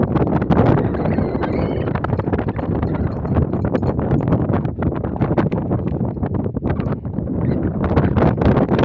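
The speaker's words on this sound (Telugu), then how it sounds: "గాలి ఫుల్ ఉన్నది." Strong wind buffets a microphone in an open field, producing loud, continuous rumbling gusts and rough flutter with no break across the whole stretch.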